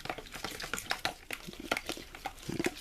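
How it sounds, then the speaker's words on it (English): A fork or whisk stirs salt and seasoning into an egg wash for mozzarella sticks, producing quick irregular taps and scrapes against the bowl up close. "we're going to stir this in really well"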